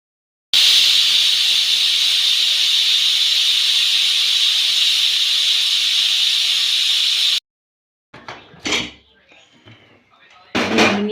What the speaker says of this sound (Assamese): এইখিনি মই এতিয়া কুকাৰত দুটা হুইছেল মাৰি লওঁ।